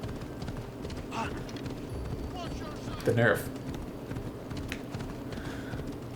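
Horse hooves clip-clop and gallop in Assassin's Creed Odyssey, a rhythmic run under game ambience with a brief louder burst midway, while a voice speaks over it.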